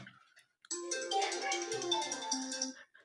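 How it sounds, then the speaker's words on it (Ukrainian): A phone ringtone plays a bright electronic melody for a few seconds after a brief murmur of voices. "Вже водитель дзвонить."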